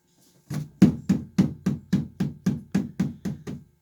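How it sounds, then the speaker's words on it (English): Eleven sharp, evenly spaced taps on a puppy pool holding four-week-old Sheltie puppies, close and fairly loud, each knock ringing briefly with a hollow body, with no talking over them. "Tap on the pool."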